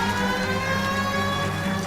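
Police sirens wail continuously in a video game, a steady tonal drone with layered harmonics held at constant loudness throughout, with no pauses.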